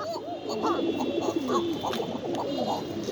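A pair of pigeons at a pigeon farm in Mirpur coo close by, giving repeated soft, throaty rolling calls over a steady background hum.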